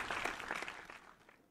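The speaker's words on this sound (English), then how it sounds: "Everybody together, one huge round of applause for all of us" Audience applause at an evening event for Mrs South India 2021, a brief burst of crowd clapping that is loud at first and quickly tapers away.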